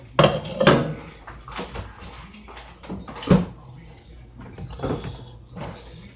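A simmering pot lid set aside beside a stove heated just above medium, heard as a few close metallic clanks and knocks spread among quieter kitchen handling noise, with a person talking throughout.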